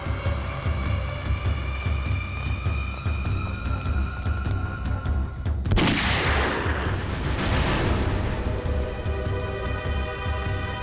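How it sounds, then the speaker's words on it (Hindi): A single sharp gunshot-like crack bursts out midway through a crime drama scene, cutting through a dense, continuous bed of droning background sound and music. "गोली चलने की आवाज।"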